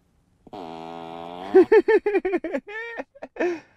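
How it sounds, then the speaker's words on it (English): A Tesla Model 3 plays its Falcon Heavy seat fart sound effect, a synthetic farting noise that starts as a sustained buzzing tone and breaks into a rapid sputtering series of bursts, loud and isolated. "you can activate each seat so that when someone sits on it, as you can hear, it makes a farting sound"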